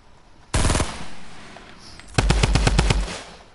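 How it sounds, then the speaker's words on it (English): A drum gun in the video game Fortnite fires two loud, rapid bursts: a short quick spray, then after a pause a longer rattling string of about eight close shots. "This drum gun, I'm in love with it."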